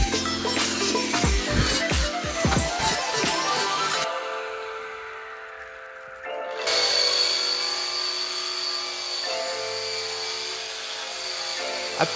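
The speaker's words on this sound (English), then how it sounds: "one of the fastest ways to remove paint is using the stripping drum on a surface conditioner" A stripping drum on a surface conditioner removes paint from wooden dining table pieces, a whining motor with harsh scraping that cuts out briefly and then starts up again.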